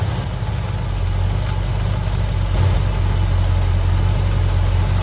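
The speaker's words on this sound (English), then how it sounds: "It powers up the alternator, and listen to the engine." A pre-1973 GM car engine with a high-output alternator idles steadily with a deep, even rumble and constant hum, close by and unchanging throughout.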